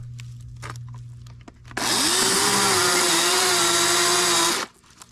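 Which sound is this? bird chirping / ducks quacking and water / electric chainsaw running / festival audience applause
electric chainsaw running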